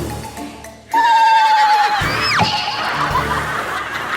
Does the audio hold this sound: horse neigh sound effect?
yes